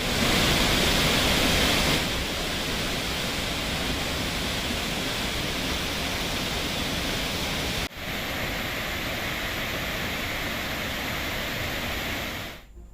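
Steady broadband rush of the Kaveri river flowing strongly at Hogenakkal after rising inflow, a loud continuous roar of water with no voices, briefly dipping near the end.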